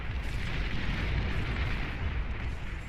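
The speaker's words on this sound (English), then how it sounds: "As they reach their mark, leaving a huge explosion" A huge explosion in the Beyond All Reason strategy game roars as a dense, sustained rumble filling the whole clip, loud and continuous with no clear separate blasts.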